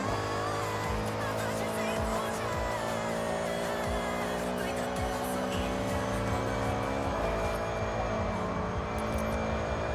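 Racing car engine in a Forza driving game, revving with stepped pitch changes through downshifts, with a sustained loud drone and faint tire squeal beneath, no talk.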